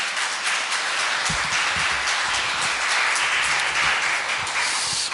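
A church congregation applauds after a youth ensemble's Easter Sunday performance, a steady dense wash of many hands clapping that holds loud for the whole stretch without voices.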